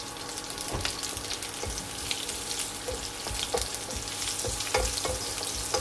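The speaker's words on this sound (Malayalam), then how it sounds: "ഇതിലേക്ക് ഒരു 4 വെളുത്തുള്ളി അല്ലി നീളത്തിലരിഞ്ഞത്, അതുപോലെ ഒരു ചെറിയ കഷ്ണം ഇഞ്ചി നീളത്തിലരിഞ്ഞതും ചേർക്കാം." Sliced garlic and ginger sizzle in hot oil with a soft, continuous crackle, broken by occasional sharper pops and light scraping from stirring, fairly quiet and close.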